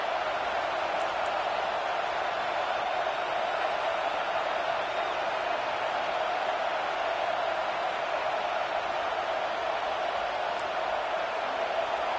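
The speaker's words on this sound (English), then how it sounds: "It's early, but this crowd is fired up." Football stadium crowd cheering early in an Aggies game: a dense, continuous roar of many voices, steady and broad with no breaks, filling the whole stretch at an even level.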